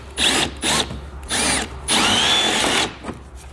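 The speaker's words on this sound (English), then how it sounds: "We're going to go ahead and drill out our aluminum rivet here." A 1/4-inch power drill bores out an aluminum rivet at a vehicle's fender well during a Roadmaster Direct-Connect base plate installation, running in four close, loud bursts with the last held longest.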